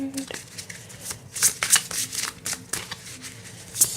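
Tarot cards being shuffled and drawn by hand: a brisk run of papery riffles and slaps, loud and close, with sharper flicks as cards are pulled from the deck.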